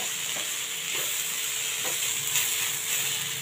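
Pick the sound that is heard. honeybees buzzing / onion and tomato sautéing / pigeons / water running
onion and tomato sautéing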